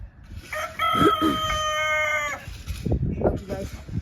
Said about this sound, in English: Guys, this is the rooster,